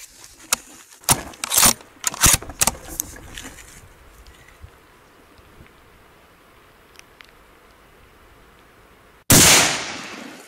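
Tikka T3x Lite .308 carbine firing a single rifle shot outdoors: a sharp, loud crack with a decaying tail near the end, preceded by scattered clicks and handling noises and faint background.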